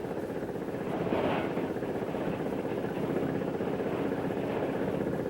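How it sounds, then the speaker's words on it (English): A forage chopper runs steadily nearby, chopping grass into fodder, a continuous mid-pitched mechanical drone that stays even throughout. "Grass is first put through a chopper where it is reduced to fodder"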